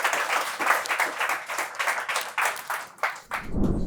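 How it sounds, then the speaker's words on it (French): Audience applauding at a round-table session on protecting minors online, a steady burst of many hands clapping that fades out near the end, with no talk over it. "Je veux bien qu'on les applaudisse, s'il vous plaît."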